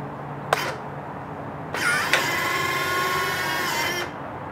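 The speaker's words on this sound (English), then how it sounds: "I'm going to show everybody the retracts on the model. The retracts are all hooked up." Retractable landing gear on an E-Flite P-51B Mustang 32e RC model airplane: a brief click, then a steady whirring electric servo hum for about two seconds ending in a stop, close and alone.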